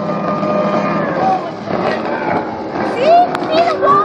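A Hydrostream V-King boat with an Evinrude 225 H.O. E-Tec outboard flies past, its engine a steady loud drone that swells and fades, heard under people talking.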